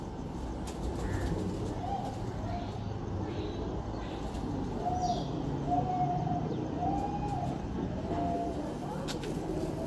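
Pigeons coo several times at a rooftop loft, their soft repeated calls set against a steady, noisy background hum.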